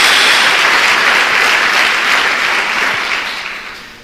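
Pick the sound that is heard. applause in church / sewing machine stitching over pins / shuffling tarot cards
applause in church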